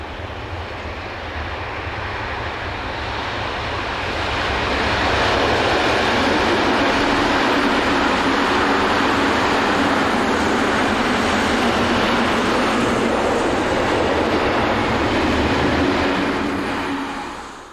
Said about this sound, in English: Here the train is seen approaching Lemvig at 10:30 in the morning.